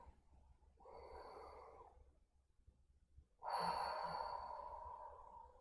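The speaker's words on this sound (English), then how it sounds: "So take another deep cleansing breath." Two slow, deep cleansing breaths, a softer airy inhale followed by a louder, longer breathy exhale, close and quiet with no talk.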